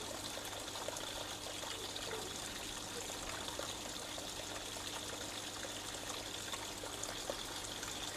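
Water pours steadily into a garden pond being topped up, a continuous close trickling, splashing rush that holds an even level throughout with no voices.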